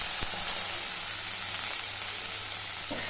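Potatoes and carrots fry in a wok of mustard oil tempered with cumin, giving a steady, close sizzle and hiss throughout without pause.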